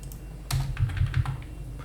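A few quick key presses on a computer keyboard, close and clear, a short cluster of clicks after a brief pause in a quiet room.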